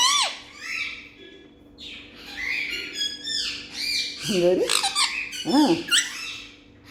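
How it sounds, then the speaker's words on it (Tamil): A peacock calls loudly with harsh, wailing squawks repeating through the clip, close by, with a voice talking intermittently over the calls. "மயில் என்னப்பா சொல்கிறான்?"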